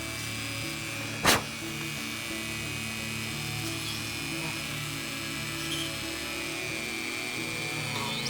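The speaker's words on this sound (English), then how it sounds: "What I'm going to do is put this little bit in the Dremel tool. It will go faster because the batteries are low on that." A battery-powered Dremel rotary tool running on low batteries gives a steady high whine with a single sharp knock near the start, continuous and close, with no talking.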